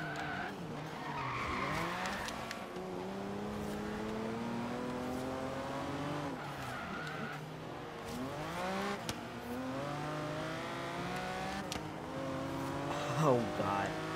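A classic Lamborghini racing engine in the video game Forza Horizon 3 revs up and down through gears with screeching tire squeals, continuous and loud, with a voice talking faintly underneath.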